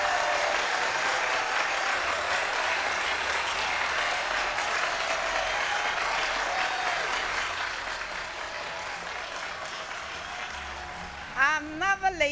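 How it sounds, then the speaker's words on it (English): Audience applause at a grand finale announcement on a televised competition show, a sustained wash of clapping that gradually fades, followed near the end by a brief bright musical or vocal cue. "A big round of applause."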